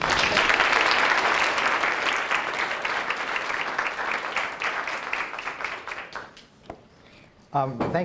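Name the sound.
audience applause welcoming a speaker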